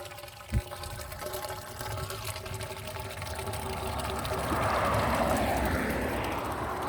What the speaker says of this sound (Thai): เสียงน้ำไหลของเขาดีจริงๆครับ